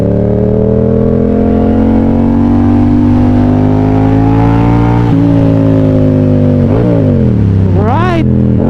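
A 2024 Yamaha R7 motorcycle's loud exhaust drones steadily near the microphone, then rises in two sharp revs toward the end, with a rider speaking over the engine.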